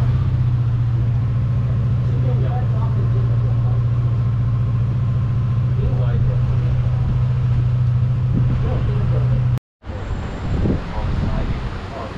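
A sixth-generation Yamaha Cygnus scooter engine runs at a steady low idle close by, with a brief cut in the sound before the engine note resumes, rougher and slightly uneven.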